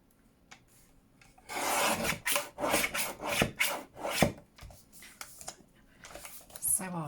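A small paper trimmer slides along a sheet, rasping and scraping as it cuts a thin strip off the edge of paper for an envelope folio journal; several close, loud scraping strokes, no talking.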